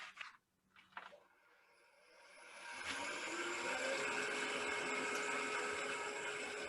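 A drill boring a 3/4 inch hole into a wood blank held on a lathe, the motor spinning up after a couple of soft knocks and then running as a steady, loud whine to the end.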